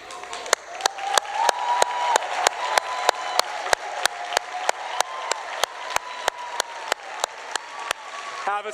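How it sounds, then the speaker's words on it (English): An audience applauds steadily for aspiring teachers standing up in a large room, dense clapping throughout with sharp claps punctuating, a voice speaking over it. "can you please stand up so we can applaud you?"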